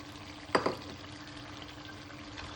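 Chicken with fried onions is stirred in a pan: a brief, close clatter of a utensil against the pan, then a quiet steady sizzle underneath, with no talking.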